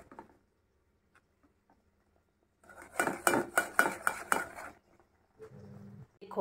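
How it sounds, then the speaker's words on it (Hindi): A utensil stirs flour into milk in a pan for white pasta sauce, making a quick burst of rapid metallic clinks and scrapes that follows near silence and then fades into softer stirring noises. "स्टिर करेंगे, ठीक है।"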